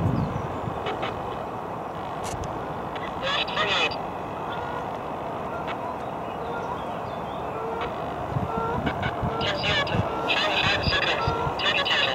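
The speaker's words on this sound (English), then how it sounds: "Wow, geese attack." Geese honk in scattered bursts on a lake at Bray, rising clearly around a few moments and again near the end, over a broad, steady wash of outdoor background noise.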